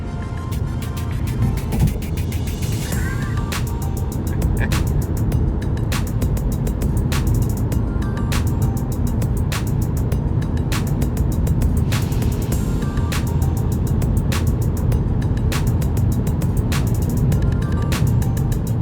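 Inside a moving car, a steady low road-and-engine rumble fills the cabin continuously, with sharp, evenly repeating ticks sounding over it and no talking.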